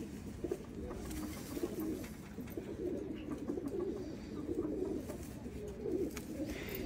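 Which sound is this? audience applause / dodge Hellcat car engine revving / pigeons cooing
pigeons cooing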